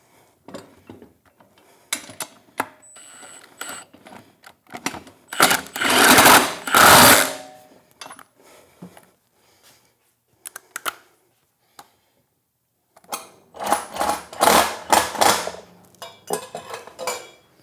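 Metallic clicks and ratcheting sounds from nuts being tightened on a spare tire carrier wheel come in scattered bursts, with short clattering runs between quieter gaps. The sounds are close, and no one speaks.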